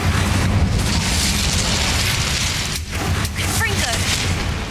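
Loud booming fire blasts from the Incendio spell in Hogwarts Legacy, a continuous roaring burst with heavy low rumble, close and dense, with short dips and small crackles near the end.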